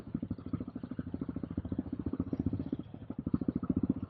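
Motorcycle engines rumble close by with a steady, fast throbbing pulse, the putter continuing without a break.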